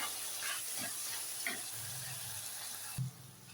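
Chopped onions and tomatoes sauté in a pan, steady sizzling and frying, a continuous crackling hiss with a few soft stirring scrapes, no voices.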